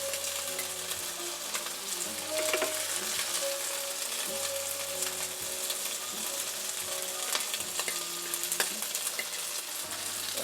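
Orzo pasta fries in a pan over moderate heat, giving a continuous close sizzle broken by occasional scraping and clicking stirs, with no voices.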